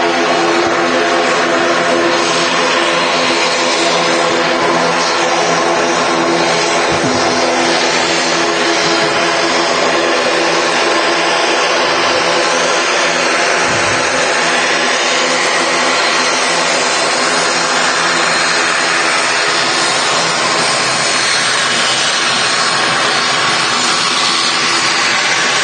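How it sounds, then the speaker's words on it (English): A Logan Air ATR 72 turboprop at Manchester Airport gives a loud, sustained droning roar with a steady propeller whine that holds for the full stretch, with no speech. "Is that Logan Air ATR 72?"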